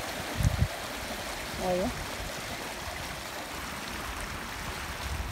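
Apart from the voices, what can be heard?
river stream flowing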